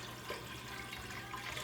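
Water and vegetable broth pour into a crock pot in a steady, continuous splashing stream, close and even throughout with no pauses.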